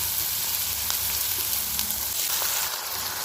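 Curry leaves frying in hot oil with lentils in a pan for cabbage poriyal, a dense continuous sizzle with light crackles and faint stirring, close and steady.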